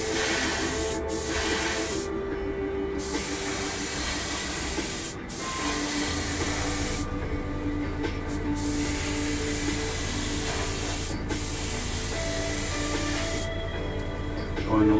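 Blue paint is sprayed onto the body of an MPC 10th Anniversary Trans Am model car, a loud continuous airbrush hiss broken by several short pauses between bursts, with a low mechanical hum underneath.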